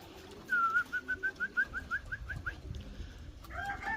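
Junior racing pigeons returning from a training flight, a quick regular string of about a dozen short tonal pulses, fairly close, that fades off before a few fainter calls, with no talking.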